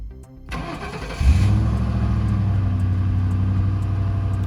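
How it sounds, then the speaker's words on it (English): An American police car's 4.6 modular V8 with over 160,000 miles cranks and catches, then settles into a steady, loud, close idle that holds to the end. "This car starts up healthy every time I use it."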